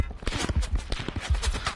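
Rapid gunfire from a shooter video game crackles in quick, uneven bursts at close range, with a player's voice shouting over the shots.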